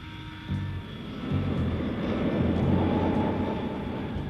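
Cargo aircraft in flight carrying a hydrogen missile, a steady droning engine roar with a low pulsing hum that swells louder midway, with no voices.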